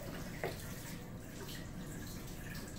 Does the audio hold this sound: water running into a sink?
yes